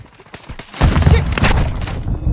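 Bursts of gunfire and heavy booms in Modern Warfare 2 Hardpoint on Kunstenaar District with the TAQ rifle, a few sharp shots then a loud sustained volley, close and forceful.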